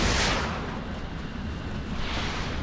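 Heavy naval gunfire in a warship game, a dense booming roar that starts loud, stays thick and broad, and flares again near the end, with no pauses.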